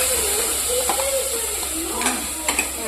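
Tomato gravy poured into hot oil tempered with asafoetida sizzles and hisses steadily, with faint stirring clinks and scrapes breaking through the constant frying noise.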